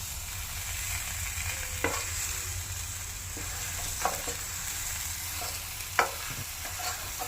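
Chicken kabsa masala paste is stirred in a pan with a steady low sizzle throughout, broken by a few sharp spoon scrapes and clinks against the pan.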